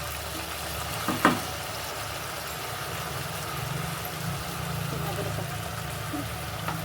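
Mutton biryani masala sautés in a pan with a steady, even sizzle, a single sharp clack of a utensil near the start, and a low background hum underneath.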